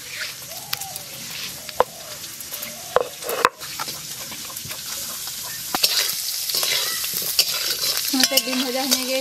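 Ginger garlic paste sizzles steadily in hot oil while being stirred, with scraping and clinks of a utensil against the pan, close up and continuous with no talk.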